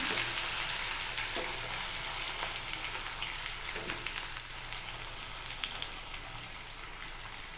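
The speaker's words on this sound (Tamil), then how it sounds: "நல்லா பொரியட்டும் பாருங்கள் கொஞ்சமாக கருகப்பிலை சேர்த்துக்கலாம்" Curry leaves and onions fry in oil for a dried fish thokku, giving a soft, even crackling sizzle that runs steadily throughout at moderate distance, with no voices.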